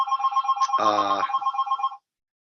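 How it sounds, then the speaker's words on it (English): Close, loud telephone bell ringing in a steady trill that cuts off abruptly, no voices over it. "That phone will stop ringing in a minute."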